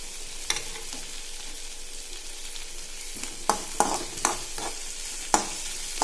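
Onions fry in a pan until deep red, a soft steady sizzle broken by a few sharp scraping stirs of a spoon against the metal, close and without talk.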